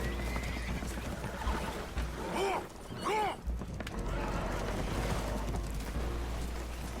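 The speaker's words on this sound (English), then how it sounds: "Horses are spooked, and we're taking on water." Spooked horses neigh and whinny in a few sharp, wavering calls in Red Dead Redemption 2, over a steady low rumble of churning water and creaking as a boat takes on water, with no talking.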